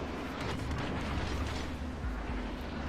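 Naval gunfire from the cruiser Seattle in World of Warships, heard as a dense, continuous rumble of distant shell blasts and booms rolling together without a clear break.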